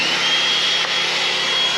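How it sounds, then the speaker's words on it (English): A loud vacuum cleaner runs inside a caravan, its steady broadband whine unbroken and close by. "That's a loud vacuum"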